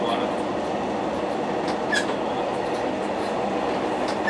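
Train rolling along the Tampere–Kokemäki line and clattering over rail switches, a steady broadband rumble with faint clicks and a brief wheel squeal, heard from inside the car with occasional low talk.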